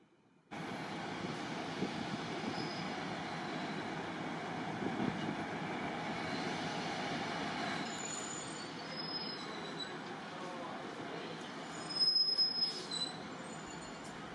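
A Caledonian Sleeper train rolls along the line between Fort William and London, its wheels giving a sustained metallic squeal over a steady rumble, with a sharper, louder burst of screeching near the end.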